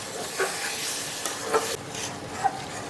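Spice masala for pickle is being sautéed in a pan, giving a continuous sizzle and fry hiss with occasional scraping stirs and a few small pops, moderately loud and with no talking.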